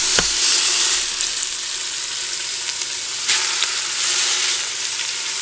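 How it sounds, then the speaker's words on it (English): Short rib meat sears in a hot pan with a loud, steady sizzle and crackle close to the listener, with occasional sharper pops and no voices. "The meat has seared, and now we're doing all of this"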